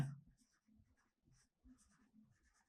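A pen or chalk writes out a math equation in a French lesson on arithmetic-geometric sequences, making faint, close scratching strokes in short bursts over about three seconds.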